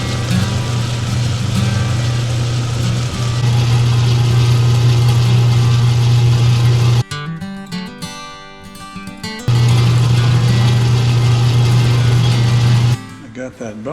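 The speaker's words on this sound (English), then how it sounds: "it's time for me to give the inside edge just a little bit of a bevel." Steady machine hum with a strong low drone runs through most of the clip, breaking off twice into quieter mechanical clatter, as the inside edge of a Grade 702 zirconium ring is beveled on a lathe.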